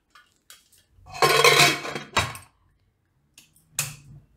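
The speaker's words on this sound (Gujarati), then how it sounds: "અને કૂકર આપણે બંધ કરી દઈશું." A metal pressure cooker lid being closed in a home kitchen while cooking tuver (pigeon peas): a scraping metallic clatter, then a sharp clank and a later clink, close and distinct against silence.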